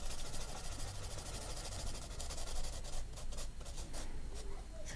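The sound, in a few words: coloring with pencils on paper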